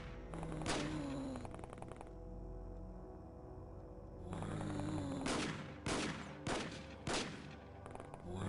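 SMG fire in XCOM, several loud, close bursts of rapid shots separated by brief pauses, with heavier impacts toward the end and no talking.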